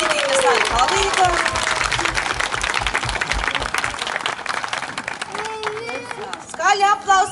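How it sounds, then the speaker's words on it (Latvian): Applause from the audience at a children's concert with a pop group at a town festival, steady clapping filling the first several seconds and thinning out, with voices calling and talking near the end. "Skaļi aplausi, Ģitīnas Nāja palīdzē."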